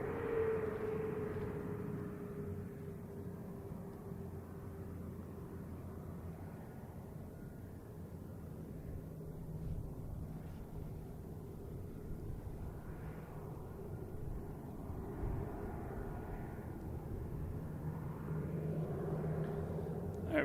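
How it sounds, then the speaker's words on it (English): A Delta airliner takes off on runway 9 at Boston Logan, heard as a continuous broad jet roar that stays moderate and distant for about twenty seconds, with no talk over it. "we got Delta 2222 heading to Detroit. Taking off on runway 9"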